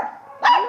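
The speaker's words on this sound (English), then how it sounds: "Oh, that's a good puppy." A single dog bark at an animal shelter, one short, loud burst after a quieter whine-like tone, close by, with no talking.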